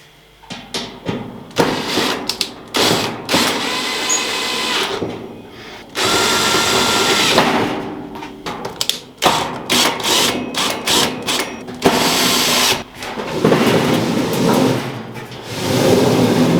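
Little screws being driven into the base of a budget metal fire pit with a power driver, the motor whirring in repeated short bursts and longer runs, loud and close, with no talking.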